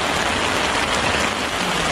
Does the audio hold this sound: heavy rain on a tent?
yes